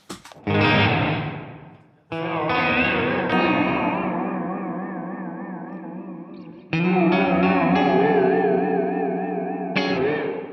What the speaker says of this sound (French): si je t'active la reverb